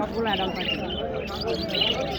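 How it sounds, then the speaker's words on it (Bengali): Budgerigars chirp in rapid high twittering at a crowded bird market, mixed under nearby talk and background chatter. "বাজরিগার এগুলা কত করে"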